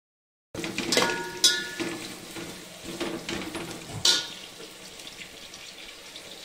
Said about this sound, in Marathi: आता हे कांदा आणि मिरची चांगलं तळत आहे